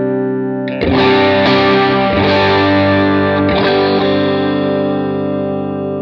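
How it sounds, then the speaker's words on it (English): Electric guitar through a Line 6 HX Stomp with a Klon Minotaur-style overdrive and plate reverb, a few loud strummed driven chords ringing out with a lush reverb tail, played alone. "I have the HX Stomp, that first initial drive, that Klon, the Minotaur is what it's called, and then I have a plate reverb on it"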